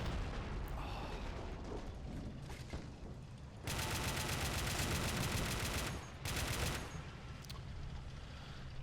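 Gunfire during an armoured assault in the Red Rising mod video game, scattered shots and pops that build into two heavy sustained bursts of automatic fire amid rumbling battle noise, with no talk.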